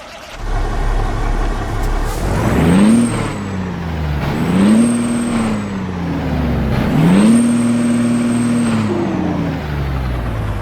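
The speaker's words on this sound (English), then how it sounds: "I am using a beautiful sound mod called the Caterpillar C18." A Peterbilt 389 with a Caterpillar C18 diesel engine in American Truck Simulator revs up through several rising gear pulls, loud and close, with a whining turbo and hissing air.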